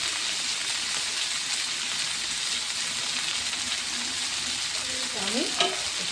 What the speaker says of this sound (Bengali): আমি এখানে দিয়ে দিলাম হলো পরিমাণ মতো একটু লবণ দিয়ে আমি আলুটাকে একটু ভাজা ভাজা করে নিচ্ছি।